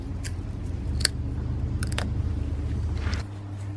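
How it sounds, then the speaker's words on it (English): Diagonal cutters (dikes) snip off the excess end of a rubbery tire plug jutting from a car tire, giving a few short, close snips and clicks over a steady low background hum. "Go ahead and just cut it off with your pair of dikes."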